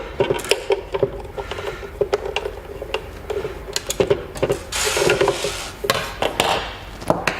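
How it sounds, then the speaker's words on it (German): Screws being undone on the cover of a Gladen SoundUp subwoofer for a BMW F-Series, worked on at a workbench: a run of sharp clicks and taps from a hand tool, close and fairly loud, with brief rattling bursts between them. "Wir lösen die 4 Schrauben von der Abdeckung."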